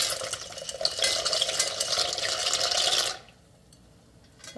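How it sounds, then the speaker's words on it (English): Pasta boiling hard in a big pot of salted water, a loud, steady bubbling and hissing roil for about three seconds that then drops away abruptly to near quiet. "We'll let it boil until the pasta is tender, probably around 10 minutes."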